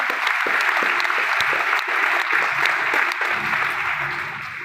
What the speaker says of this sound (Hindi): ताली एक बार जोरदार वाली बजा दीजिए सर